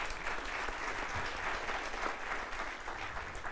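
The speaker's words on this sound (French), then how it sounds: "Merci de l'applaudir" Steady applause from a sizable audience at an awards ceremony, dense clapping that holds at an even level throughout with no voices on top.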